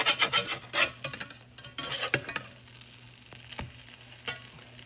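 French toast slices fry in a hot pan, giving a soft, uneven sizzle with scraping rasps and a few sharp clatters of a utensil, close and moderately quiet, with no voices.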